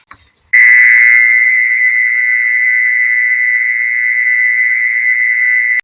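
A steady, loud single-pitch siren tone blares through a horn loudspeaker, a PF421 unit being checked during repair. A brief click comes first, then the piercing tone holds constant with bright overtones to the end.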